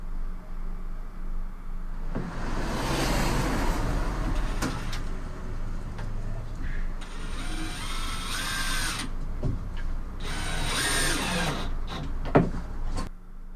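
A screw being driven into a template board held by hand against a van panel: a drill whines in bursts over a steady low rumble, loud and close, with short pauses between runs.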